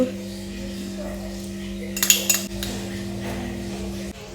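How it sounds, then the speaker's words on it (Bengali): A spoon scrapes the last bit of yogurt from a bowl, making a brief cluster of scraping clinks near the middle over a steady low hum. "চেঁচে পুচে খেয়ে নিয়েছি, বাটি পরিষ্কার।"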